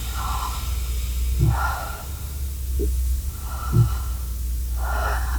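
Slow, deep belly breaths from a single person, soft airy inhales and exhales recurring every second or so, close and quiet over a steady low background hum, with no talking.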